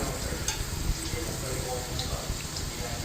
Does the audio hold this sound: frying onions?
yes